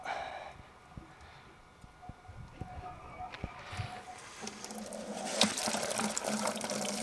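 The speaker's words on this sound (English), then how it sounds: "Almost forgot to fill my water bucket." Water running into a blacksmith's water bucket beside a coal forge, a steady splashing pour that builds into a louder rushing fill toward the end, heard close.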